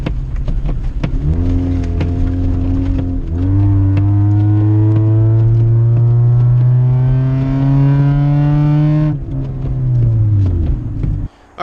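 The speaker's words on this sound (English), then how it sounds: "Just bombing through all this fucking slush." A car engine roars loud and close, climbing steadily in pitch through long pulls and dropping between them, as a vehicle is driven hard through slush.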